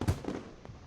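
Fireworks at a festival in the visual-novel game Katawa Shoujo: a couple of soft, distant-sounding pops and bursts within a second, the first one strongest.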